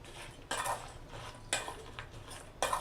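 A spoon stirs mango pickle mixture with hot oil, three sharp scraping clinks against a vessel spaced about a second apart, close and fairly quiet, with no talk.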